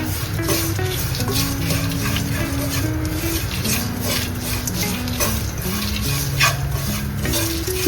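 Masala for roasted chicken curry stirred and fried in a pan, continuous scraping and sizzling with repeated stirring strokes, close and steady, with no talk.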